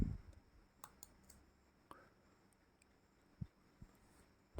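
Sparse computer mouse clicks while filling in a web registration form, a handful of soft, sharp, isolated clicks spaced irregularly over a quiet room hum.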